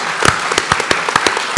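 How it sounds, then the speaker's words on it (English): An audience applauds at a business group's fifteenth birthday celebration, a short burst of loud, close clapping in uneven rhythm, no talk. "give yourselves a huge round of applause, because this is impressive work you're doing"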